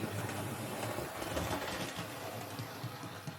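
A Hornby Standard Class 4MT model locomotive runs after a gear replacement, giving a soft, steady whir of the small motor and wheels on track, faint and continuous throughout.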